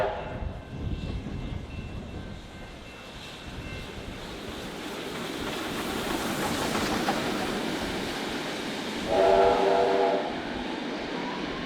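A suburban train runs through Mordialloc station, a low rumbling roll buried in gusty wind noise, with a brief tonal squeal rising near the end.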